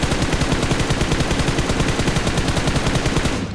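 An M416 assault rifle in the mobile game PUBG Mobile fires a sustained burst of rapid automatic fire, loud and continuous for a few seconds before cutting off.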